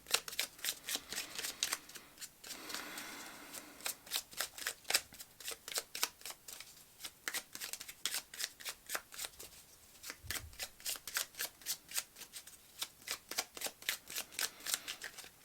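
Tarot cards being shuffled by hand, a long run of quick, crisp riffling flutters in repeated bursts, close and clear with no talk over them.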